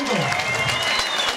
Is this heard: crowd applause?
yes